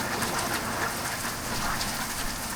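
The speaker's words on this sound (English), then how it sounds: "This is beyond normal levels of rain in Australia." Heavy rain pours down in Australia during a thunderstorm, a dense, continuous hiss of drops pattering on surfaces. It sounds close and steady throughout, with no voices.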